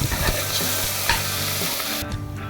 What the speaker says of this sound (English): நம்ம நல்லா golden brown வர வரைக்கும் நல்லா ஃப்ரை பண்ணணும்.